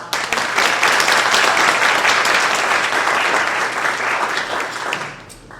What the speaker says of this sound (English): This is for Yvonne Lopez, Assemblywoman. Let's give a round of applause.